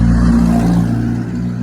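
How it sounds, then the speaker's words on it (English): A loud car engine with a loud exhaust drives past on a street at a traffic-light junction, a deep steady roar close by that fades slightly as it goes, with no talking. "Got that car loud, isn't it?"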